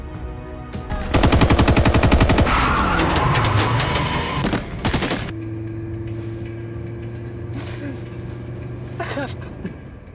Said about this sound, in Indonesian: aksi saling tembak pun masih terus berlangsung